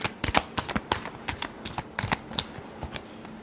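A deck of tarot cards being shuffled by hand, a quick run of crisp riffling flicks and taps, close and fairly quiet with no talking.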